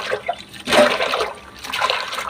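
Cut vegetables are washed under running water, with splashing and trickling that rise and fall in uneven bursts close by.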